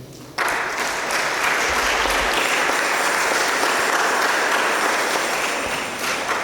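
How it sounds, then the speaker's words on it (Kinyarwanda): An audience at a Catholic children's patronage gathering in Rwanda bursts into sustained, dense applause. The clapping starts abruptly and holds at an even level for several seconds, loud and close, with no talk. "Ndagira ngo munize amashyi mwese mbashimire."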